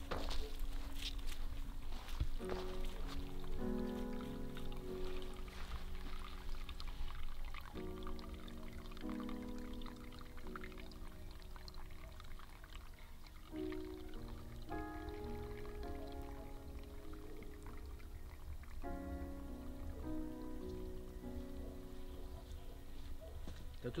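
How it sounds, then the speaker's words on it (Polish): Water pours and trickles steadily close by, a continuous splashing flow with faint tonal sounds in the background. "Po prostu woda leci ciurkiem."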